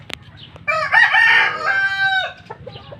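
A nearby rooster crows loudly and at length among six-month-old chickens, with clucks and scratching of the flock around it.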